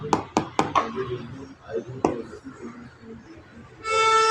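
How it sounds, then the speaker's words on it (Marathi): Vegetables being cut quickly with a chopping tool in a home kitchen, a few sharp rapid chops at the start and another later, mixed with someone talking, then a brief humming tone at the end. "बघा किती पटकन भाजी कापून होती"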